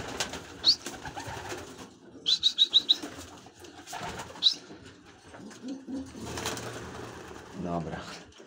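Homing pigeons in a loft give soft coos and a few quick bursts of calls, some close by and some farther off, with a short flutter of wings. Someone speaks in the background now and then.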